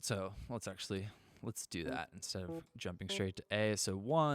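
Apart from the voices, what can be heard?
No everyday noise stands out behind the speech.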